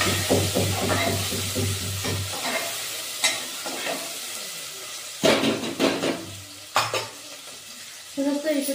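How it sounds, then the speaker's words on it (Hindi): Onions and green chillies fry in hot oil, a close crackling sizzle with scraping stirs and clattering of the spoon against the pan, in bursts with brief quieter gaps and no talk. "तेल गर्म हो गया है। अब इसमें प्याज और हरी मिर्च डालेंगे।"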